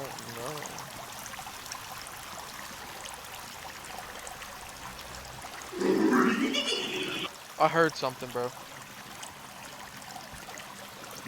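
A flowing stream in the survival video game Sons of the Forest gives a constant rushing hiss that runs through the whole clip. Two players talk briefly over the water partway through.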